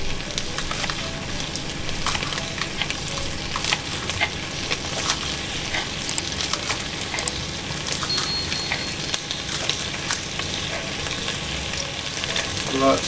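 Onions and spring onions fry in a pot for salted pig tail stew, a steady close crackling sizzle with occasional clicks of stirring throughout, no talking.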